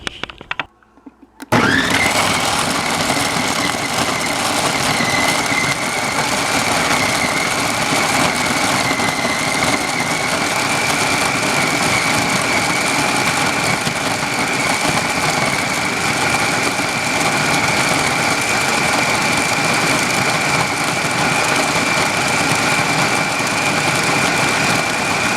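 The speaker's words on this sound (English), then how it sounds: "Got it all in the food processor, and we're gonna see if this will work." A food processor whirs into life after a short silence to grind beef fat for rendering tallow. A loud, steady motor drone with a grinding buzz follows and holds without a break to the end.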